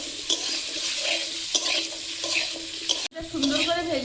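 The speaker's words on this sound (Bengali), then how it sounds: "একটু হলুদ দিয়ে আলুটা ভেজে নিই।" Potatoes frying with turmeric in a pan, a steady close-up sizzle with scraping stirring strokes, broken by a brief cut near the end before the frying resumes.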